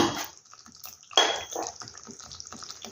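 Water pours from a bowl into a cooking pot in a home kitchen, a brief splashing gush followed by softer trickles and small clinks, close and fairly quiet, without talk.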